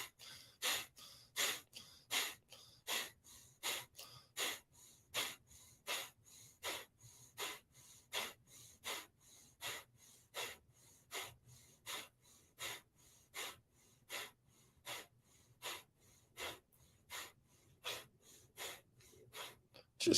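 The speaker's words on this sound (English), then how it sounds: "go ahead and return to the breath of fire again at the pace of exhale" Breath of fire during a morning meditation: rapid, forceful nasal exhales repeating at a steady, quick pace for a long run, close and fairly quiet, with no speech.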